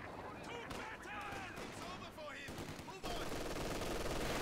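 Machine gun fire in a Company of Heroes 2 battle on the Port of Hamburg map, sustained bursts of rattling gunfire under constant battle noise that grows louder and denser near the end, with voices in the mix.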